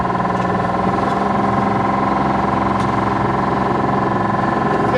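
A sailboat's engine runs steadily at throttle on rough water near Port Saint Joe, Florida, giving a loud, even drone with a constant hum and no break across the whole stretch.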